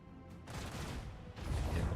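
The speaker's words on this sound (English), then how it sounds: "Macro cannons, volley!" Macro cannons on a void ship fire a volley in the video game Rogue Trader, a rumbling barrage of deep booms that swells, eases briefly, then surges louder again with no speech.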